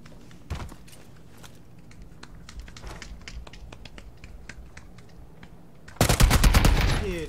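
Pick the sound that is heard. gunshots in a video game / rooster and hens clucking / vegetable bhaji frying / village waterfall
gunshots in a video game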